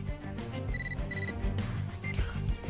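A phone ringtone in Catherine: Full Body, with repeated bright electronic ring bursts over a steady background game music bed, close and clear, nobody speaking.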